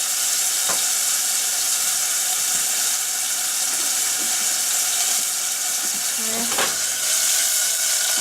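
Food sizzles steadily in a pan on the stove while rice, chicken and leafy greens are cooked for lunch, with a broad constant hiss and a few brief clinks and stirring knocks.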